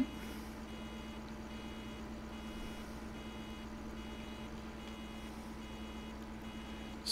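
Steady electronic reversing beeps from a vehicle in Farming Simulator 15 repeat at an even pace over a constant low engine hum, with no talking.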